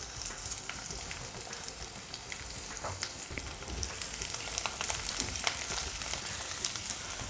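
Garlic and tamarind frying in oil for a garlic pickle, a steady crackling sizzle with dense popping that grows slightly louder toward the end, with no talk.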